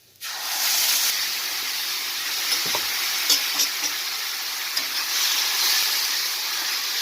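Ground spice paste hits hot oil with panch phoron and a dried chilli, bursting into a loud, steady sizzle right up close that hisses on without pause, with small crackles scattered through it.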